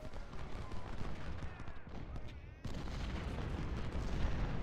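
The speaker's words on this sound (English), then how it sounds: "We'll see if they get some canister fire." Canister artillery volleys from Civil War–era cannons in the strategy game Ultimate General: Civil War, heard as a dense, continuous rumble of booming fire and crackling gunshots with a sharp surge midway, loud and sustained.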